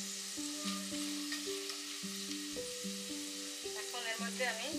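Whole spices such as bay leaf, cubeb, black pepper, green cardamom, cinnamon and cloves hit fried onions in a pan for lamb rogan josh, giving a steady close sizzle with stirring scrapes and a tonal hum underneath.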